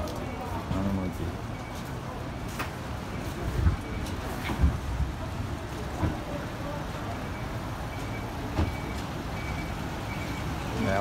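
A large truck reverses at a driving test site, its backup beeper sounding in short repeated pulses over a low engine rumble, with a few sharper clunks and people talking in the background.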